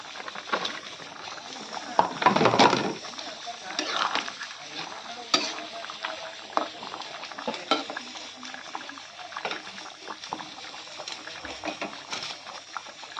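Fried fish pieces dropped into a pot of boiling water for a fish curry with red pumpkin and kohlrabi, giving a brief splash and sizzle followed by steady bubbling and light clatter, with no talking.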